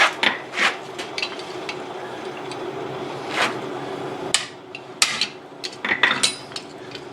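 Sharp metallic strikes ring out irregularly, single blows and quick clusters of hammering on a guillotine tool while forging a railroad spike, over a low background hum.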